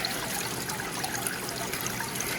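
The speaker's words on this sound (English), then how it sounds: "You can see the water running down there." Water trickles steadily down a hydroponics tower used for growing plants, a soft continuous dribble close by with no talking.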